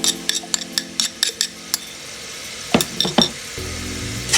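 Garlic and ginger fry in hot oil while being stirred for Sindhi daal pakwan: a steady, soft sizzle runs beneath a series of sharp, close utensil clicks against the pan, then several heavier scraping strokes toward the end.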